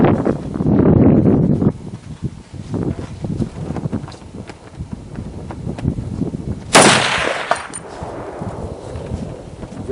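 A Springfield M1A rifle, an overhauled M14-type, fires outdoors: a loud muffled blast near the start and a sharper crack later, with rumbling echoes and wind noise between.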